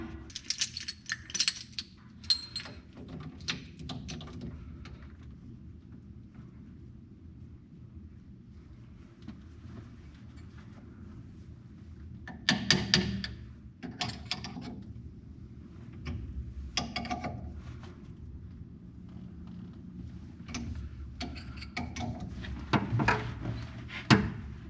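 Metallic clanks and scraping as a puller is fitted onto the loose-spoked wheel hub of a 1972 Allis Chalmers M65 road grader, irregular bursts of tool contact separated by quieter gaps, close and outdoors with some wind.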